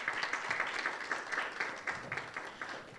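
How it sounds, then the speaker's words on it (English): Audience at a panel discussion on democracy and digital innovation applauding to welcome a panelist, a steady patter of many hands clapping at moderate distance, fairly quiet and fading slightly. "Help me invite Dr. Mudhuri with applause."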